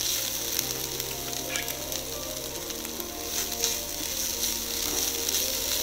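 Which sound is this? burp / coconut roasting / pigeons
coconut roasting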